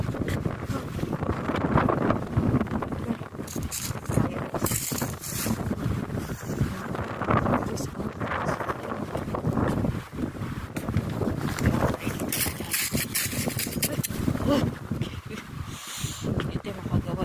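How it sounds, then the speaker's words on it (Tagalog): Strong cold wind roars and gusts against the microphone in freezing weather, a loud continuous rushing blast that fills the whole scene, with a voice talking in places. "Ang lakas kasi ng hangin guys."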